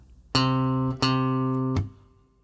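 Guitar notes sounding a fifth interval: two plucked tones, one after the other, each ringing clearly for about a second, then a short third pluck that fades out, alone and close.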